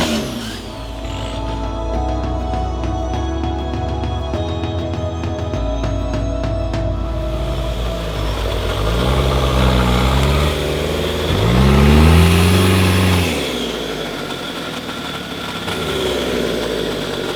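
Engines of off-road production cars and purpose-built prototype rigs in a Malaysian jungle rainforest challenge rev and idle nearby, with pitch rising and falling through several revving surges, one peaking loudly midway.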